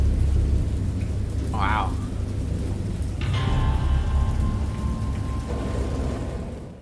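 Steady heavy rain pours under a deep thunder rumble that swells and rolls on, joined midway by a long sustained tone, as a stormy effect in a Dagon audio drama; a voice briefly exclaims over it.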